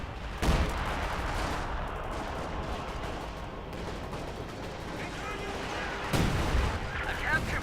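Priest self-propelled artillery firing in Company of Heroes 2, with heavy booming shots at the start and again near the end over continuous battle noise, while a commentator talks throughout.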